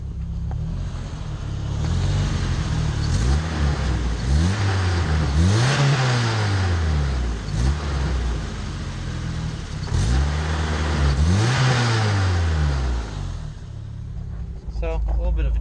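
Jeep engine idling with a deep, rough rumble, revved up several times in rising and falling sweeps, loud and close, with an exhaust knock and new injectors mentioned.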